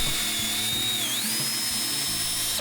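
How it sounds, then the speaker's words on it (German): A power drill boring holes to mount Komatsu joysticks, giving a steady high-pitched whine that dips briefly and then rises again, over low mechanical rumbling at a modest level. "Es mussten Löcher für die Befestigung der Joysticks gebohrt werden"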